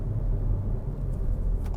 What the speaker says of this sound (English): any car sounds good in a tunnel